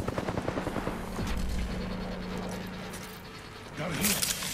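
Rapid gunfire in a video game fight, a dense rattling of shots that runs steadily under a voice and swells louder near the end.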